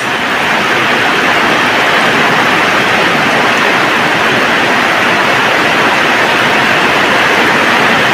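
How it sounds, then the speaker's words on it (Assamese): A heavy autumn downpour roars as a loud, dense, unbroken wash of rain hiss, steady throughout with no voices. "এয়া ধাৰাসাৰ বৃষ্টি"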